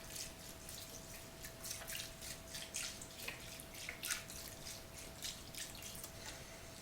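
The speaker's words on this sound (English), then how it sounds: "Now adding a little bit of beef broth." Beef broth poured into a bowl of homemade dog food gives a steady, quiet liquid trickle with soft splashing and dripping throughout, with no talk.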